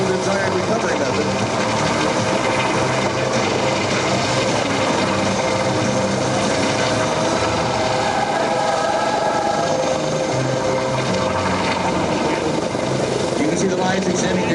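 A Coast Guard rescue helicopter hovers during a search and rescue demonstration at an air show, its rotor and turbine a loud, steady, unbroken drone with an announcer's voice over it.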